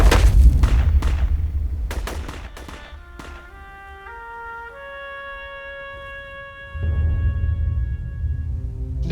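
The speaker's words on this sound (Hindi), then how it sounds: "साला बहुत गोली चला रहा है।" Gunfire during a shootout in a film: several loud, sharp shots and booming thuds crack out in a rapid burst at the start, followed by sustained tonal music and a renewed low rumble.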